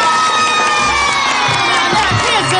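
Children cheering and shouting excitedly as a crowd, loud and continuous over a short burst, with music or tones underneath.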